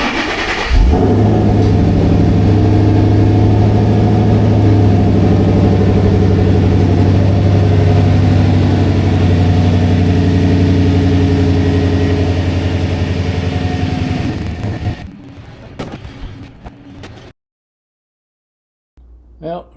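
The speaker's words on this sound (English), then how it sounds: "So first thing I need to do is move the cars out" A car engine idles loudly and steadily at close range while cars are moved out of a garage. The low rumble lasts about fifteen seconds, then shuts off, followed by brief quieter noises and a pause.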